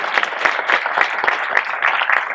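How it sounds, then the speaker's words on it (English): A Hall of Fame ceremony audience applauds, dense rapid clapping filling the room at a steady, lively level with no voices over it. "Give them a round of applause, please."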